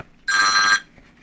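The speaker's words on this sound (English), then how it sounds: "I don't know how my phone rang when the phone was literally on mute." A phone left on mute rings once with a short, bright electronic trill lasting about half a second, loud and close in a quiet room.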